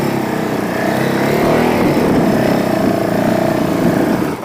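A Honda CRF450L dirt bike engine runs steadily and loudly close by while riding on a sandy, washed-out trail, with a continuous droning tone that rises and falls slightly as the rider works the clutch.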